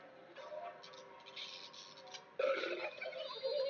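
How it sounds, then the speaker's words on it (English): Homer's power burp from The Simpsons Game (PS3, 2007): a long, loud belch surging in strength midway through, layered over game sound effects and background noise. "power burp."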